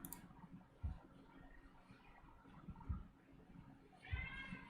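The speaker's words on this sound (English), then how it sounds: "Yeah, you're gonna hear my cat." A pet cat lets out a few faint, short meows indoors, spaced a couple of seconds apart, over a quiet room hum.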